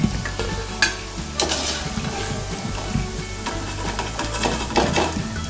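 Banana flower gola balls fry in a pan of oil, giving a steady, close sizzle with occasional scrapes and clinks as they are turned.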